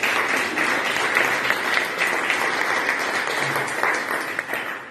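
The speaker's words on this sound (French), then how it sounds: "Je vous demande de les applaudir parce que c'était pas facile pour eux." A dense, sustained wash of applause fills a hall honouring thirteen finalists at a Total Tunisie ceremony, steady and loud throughout before easing slightly at the end.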